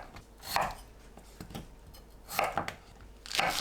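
Knife chopping green and red chili peppers on a cutting board, with three clusters of sharp chops at steady intervals, close and clear, and no talk.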